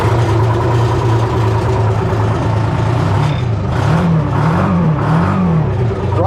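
An engine on a 1970 Hough International H60 payloader runs loud and steady, with a rising and falling pitch toward the end that sounds like revving.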